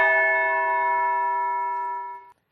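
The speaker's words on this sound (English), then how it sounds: "the bell sound will be produced." A metal bell with a gong struck against its outer casing gives one clear ringing tone that sustains evenly for about two seconds, then stops sharply. It sounds alone, with no voices.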